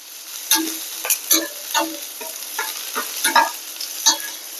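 Red onions frying lightly in a pan sizzle softly while a spatula scrapes and taps in irregular strokes, close up, with no talking.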